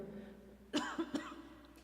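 A woman coughs from the draft of a fan, three short close coughs in quick succession against a quiet room.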